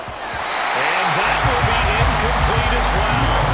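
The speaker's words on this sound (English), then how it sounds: "Crowd getting in it a bit already." A football stadium crowd in Madden NFL 24 keeps up a loud, steady roar that swells after the first second, with a few dull thuds mixed in.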